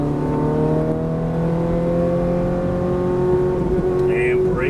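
Ferrari F430 on a race track accelerating hard under full throttle, a loud sustained engine roar with rising harmonic tones, heard from inside the car.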